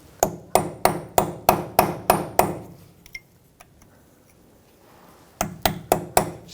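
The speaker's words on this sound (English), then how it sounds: "Just use a punch, and where it's peened over, you can just try to bend it back a little bit" Sharp metal-on-metal hammer blows strike a punch to bend back the peened-over nut on a 2000-2006 BMW X5 front CV axle, eight quick ringing hits, a short pause with small clinks, then another burst of five strikes, close and loud.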